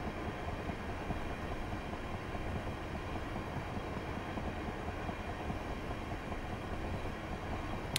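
An electric multiple unit train in Train Simulator 2019 runs along in steady, fairly quiet rumbling motion, a broad continuous wash of track and traction noise with no voices.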